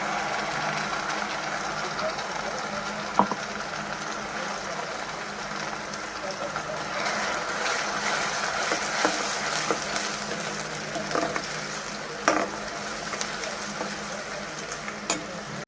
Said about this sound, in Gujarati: હવે આપણે ડુંગળીની પેસ્ટ નાખીએ.